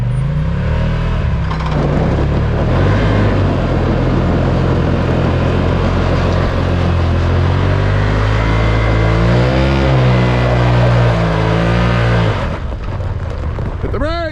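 A Turbo R UTV engine revs hard and steadily for about twelve seconds while it strains to pull a 35,000-pound load on wheels with a rope, its loud, droning pitch rising and falling before cutting off abruptly near the end.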